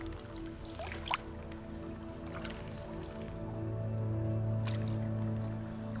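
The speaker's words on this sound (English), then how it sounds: "the sound of the water is just so therapeutic" Water lapping and dripping around a paddleboard, soft trickles and a brief splash over a low steady hum, faint and close.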